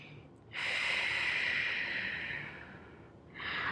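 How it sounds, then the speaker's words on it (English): A deep, drawn-out breath during a Pilates core workout, a close, airy inhale lasting a couple of seconds followed by a softer release, then another breath beginning near the end. "one more deep breath in"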